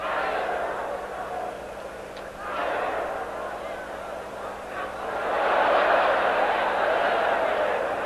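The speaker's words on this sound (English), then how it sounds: "The crowd signals every punch from Galaxy." Boxing crowd roaring through a Khaosai Galaxy bout against Byung-Kwan Chung, a steady dense wall of cheering that surges louder toward the end, with no distinct single punches standing out.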